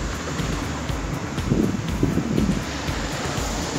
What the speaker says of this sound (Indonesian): Hujan, berangin, dingin.